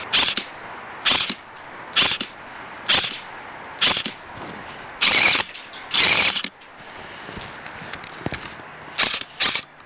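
Airsoft rifle gearbox skipping, firing off repeated sharp clattering bursts in uneven groups, loud and close, with short quiet gaps between the bursts.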